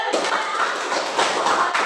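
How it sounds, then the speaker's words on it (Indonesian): A classroom of students claps for a classmate named Felita, a dense, steady patter of many hands from start to finish with a faint voice beneath. "Tepuk tangan Bapak Felita"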